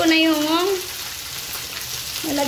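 Onion and garlic sautéing in a hot pan for an Ilocano dinengdeng-style dish, a steady close sizzle throughout with a brief voice-like tone at the start and end.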